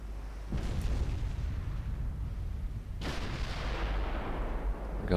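Heavy warship naval guns firing in the video game Ultimate Admiral Dreadnoughts, two booming salvos about two and a half seconds apart, each followed by a long rumbling roar, with no talking.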